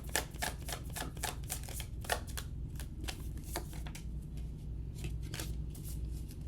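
Tarot cards shuffled steadily and close by, a dense run of crisp riffling flicks and slaps repeating throughout without any voice.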